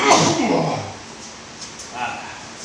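One loud sneeze erupts near the start, close and explosive, then trails off into a quieter room with faint movement afterward.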